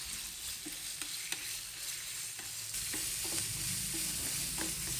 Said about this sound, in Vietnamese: Tỏi xả thơm thì mình cho thịt vào xào.